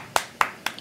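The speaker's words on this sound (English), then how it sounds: "Clap!" Three sharp, crisp hand claps ring out in quick, evenly spaced succession, close and distinct against a quiet background, followed by a faint small tap.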